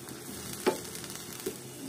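Onion fries in oil in a frying pan for a dried lotte fish dish, giving a faint, steady sizzle with two soft clicks of a utensil against the pan.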